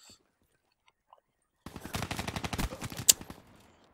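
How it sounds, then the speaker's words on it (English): KUDA submachine gun in Call of Duty Black Ops 3 firing one sustained rapid burst after a near-silent lead-in, loud and close, ending with a sharp single crack before tapering off. "some machine gun power with the KUDA"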